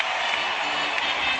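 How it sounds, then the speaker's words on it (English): An arena crowd at the 2017 NBA Eastern Conference Finals between Cleveland and Boston rises in a standing ovation, a loud, sustained roar of cheering and clapping that fills the space evenly. "Standing ovation from this crowd."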